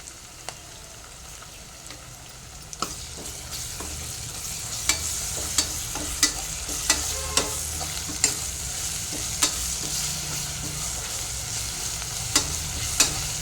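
Mutton fries in a pot with ginger garlic paste under a steady close sizzle, while a ladle stirs it and knocks against the rim in regular sharp clinks.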